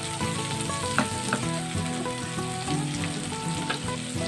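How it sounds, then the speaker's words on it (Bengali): Onions frying in a pan for spicy semolina upma, a loud, steady sizzle with stirring scrapes and occasional clicks throughout, no talking. "এবার এর মধ্যে আমি পেঁয়াজটা দিয়ে দেবো। দিয়ে ভালো করে আমি একটু ভাজা ভাজা করে নেব।"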